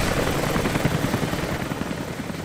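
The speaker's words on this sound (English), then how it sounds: "Helicopter's still doing its thing." A helicopter in the video game Rise of the Tomb Raider gives a steady, rapid rotor chop with a dense whirring engine noise, continuous and moderately loud with no talking.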